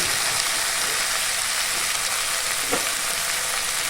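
Prawns frying in a hot pan for a Bengali gourd and prawn dish, a loud continuous hissing sizzle with a faint stir or two, no talking.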